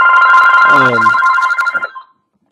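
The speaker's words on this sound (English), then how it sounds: "my phone's ringing, and that's going to have to keep ringing for a second" An electronic phone ringtone trills in a steady, close warbling pattern for about two seconds, then cuts off.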